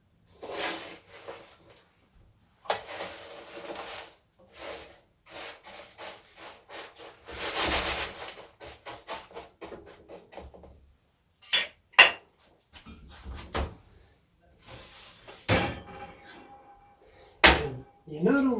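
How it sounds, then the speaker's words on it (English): Granola clusters being gently stirred and turned on a cookie sheet, with scraping, rubbing and clinking of a utensil against the metal pan in irregular bursts, close by, with some louder knocks and clatters. "The more gentle the stir, the less likely it is that you'll break up the clusters."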